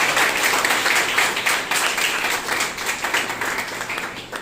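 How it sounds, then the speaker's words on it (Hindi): An audience at a poetry recital claps, a dense, steady burst of applause from many hands that swells briefly and then eases off, close and fairly loud. "ताली बजाओ"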